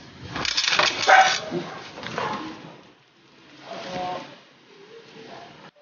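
Dogs playing and chasing each other give a few scattered barks and whimpers, moderately near, in short bursts separated by quieter gaps.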